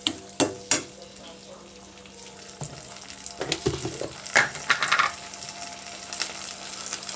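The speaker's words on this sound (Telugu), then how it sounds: "కొంచెం టమాటాలు పచ్చిపోయేంత వరకు ఇలా వేయించుకుంటూ ఉండాలండి." Tomatoes fry in a pan for a curd chutney, giving a soft, steady sizzle with a few sharper stirring scrapes and clinks scattered through, close and moderately quiet, with no talking.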